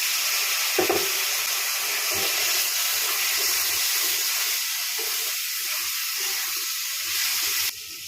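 Water poured into a hot pan with cumin powder while cooking Bengali muri ghonto, giving a sudden splash and then a loud, steady steam hiss that carries on and eases slightly at the end.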